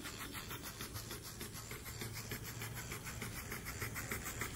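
A model beam steam engine runs with a fast, steady rhythmic chuffing and hiss, faint and even throughout, with no voices.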